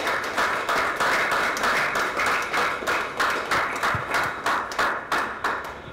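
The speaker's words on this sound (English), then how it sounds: "A round of applause for Not Priest." Audience applauding a poetry performer at an International Youth Day celebration, a steady wash of many hands clapping throughout, fairly loud and close, with a rhythmic pulsing texture and no talk over it.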